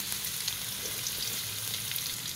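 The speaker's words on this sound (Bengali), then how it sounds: "গরম তেলের মধ্যে আদা কুচি দিয়ে দিলাম" Chopped ginger sizzles steadily in hot oil, a dense, even hiss of frying that runs without pause and without any voices.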